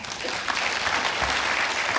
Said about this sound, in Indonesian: Tepuk tangan Tuhan kita ada.